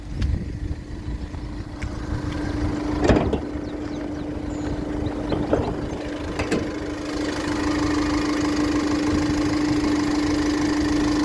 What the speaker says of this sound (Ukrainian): Зараз вам ще дам послухати, як працює двигун.